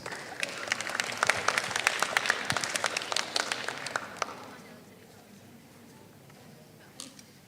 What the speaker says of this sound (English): Please give your best applause, ladies and gentlemen.